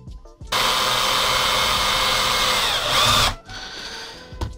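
A power drill whirs loudly and steadily for about three seconds, then stops abruptly, followed by a quieter mechanical whirring, while drilling during crankshaft seal replacement on a Vittorazi Moster Plus paramotor engine.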